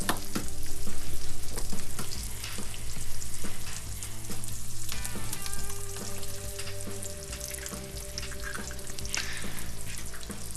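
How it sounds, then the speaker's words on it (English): Eggs frying over easy in a seasoned cast iron skillet, a constant loud sizzle and crackle with scattered pops and a few utensil scrapes, heard up close with no talking. "time to fry up a couple of eggs over easy"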